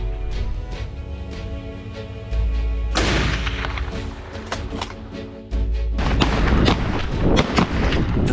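Gunshots during a wild boar hunt, with heavy booming reports over steady background noise, several sharp bursts of fire loud and close.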